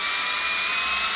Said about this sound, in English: Just going to drill a pilot hole for the nail, right dead center.